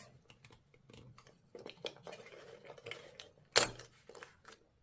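Plastic from a jerrycan is cut by hand into earring shapes, giving a series of quiet, irregular snips and clicks with one sharper cut near the end, heard close up.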